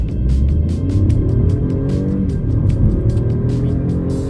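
BMW 216i Active Tourer M Sport, a 2023 compact car, pulling away under acceleration with a steady, throaty engine drone and rising harmonics, loud and continuous throughout.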